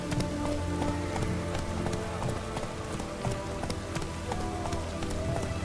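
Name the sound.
rain in a video game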